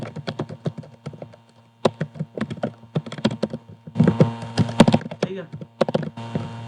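Fast, uneven clatter of keys on a computer keyboard, close and fairly loud, with bursts of quick taps and short pauses while a trading chart is annotated.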